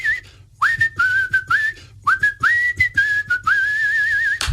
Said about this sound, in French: Donc, je pourrais faire mon thème en sifflant.